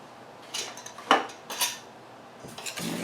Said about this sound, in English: stir all of that together.